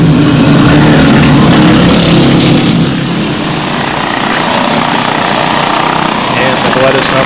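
Racing go-kart motors buzz loudly and continuously at a karting heat race, a dense high-pitched engine roar with a commentator talking over it.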